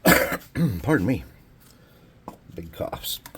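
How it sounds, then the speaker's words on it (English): A few heavy, throaty coughs come in quick succession close up, followed by a pause and then a voice speaking. "Big coughs."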